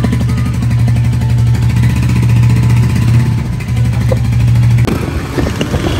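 A motorcycle ridden along an empty road during lockdown, its engine droning steadily and close with a low harmonic hum, briefly shifting pitch near the end; no talking.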